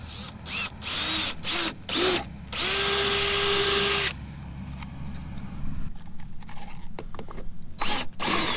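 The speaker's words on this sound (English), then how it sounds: "I'm going to drill that hole" A power drill bores a hole during work to lower a Tahoe, Yukon, Denali or Escalade truck, revving in short bursts and then one longer steady run, close and loud over a background hum.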